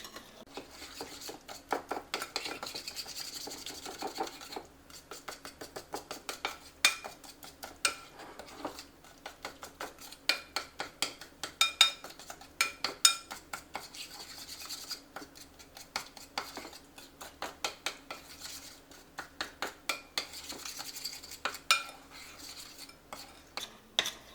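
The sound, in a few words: cookie dough being mixed by hand in a bowl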